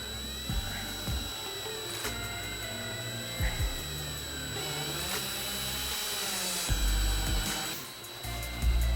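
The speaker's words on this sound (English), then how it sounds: "Now we're going to use that step bit." A step bit bores a hole for a switch mount during a Jeep JL Wrangler light install, a power drill whirring in repeated short bursts with brief pauses between, fairly close and steady, the motor pitch shifting as it cuts.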